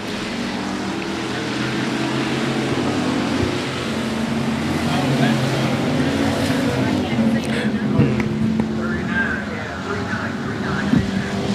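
Race cars on a dirt speedway during a heat race, engines droning and roaring steadily throughout under a continuous wash of crowd and track noise, with a commentator talking over it.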